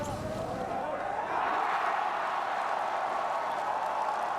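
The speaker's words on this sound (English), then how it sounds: "Crowd absolutely loves it." A golf gallery at the 2015 Presidents Cup applauds and cheers, swelling into sustained clapping with a crowd roar, heard from a middle distance.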